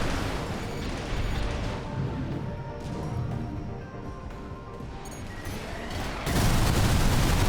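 Missile barrages in Armored Core VI hit as a dense, continuous roar of blasts and explosions, with a sharper surge of impacts near the end.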